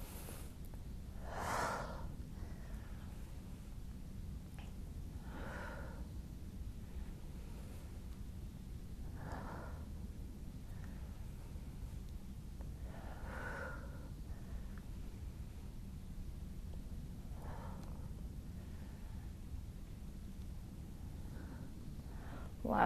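Deep, slow breaths during a seated Pilates twist, a few rhythmic inhales and exhales spaced several seconds apart, close and soft over a faint background hiss.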